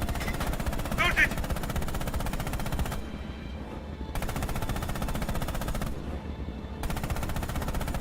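Coaxial machine gun on a tank firing in Red Orchestra 2, a dense continuous rattle of rapid shots with brief pauses, loud and close, with game voices heard over it.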